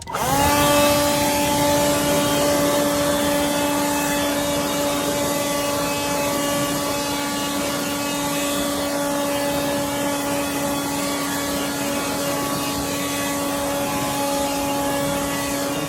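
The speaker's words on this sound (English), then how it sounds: "But now we're just gonna blow it dry." Air blower drying a freshly washed, coated car wheel, a steady loud whine with strong tonal harmonics that runs unbroken for the full length, close up and alone.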